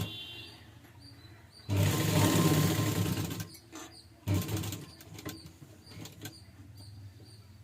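A sewing machine stitches fabric piping in two short runs, the first longer and louder, followed by faint clicks and handling sounds in a quiet room.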